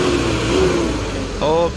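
A heavily loaded diesel truck strains up a slippery incline at Batu Jomba, its engine droning and then surging in a brief rev, with people talking nearby over the motor.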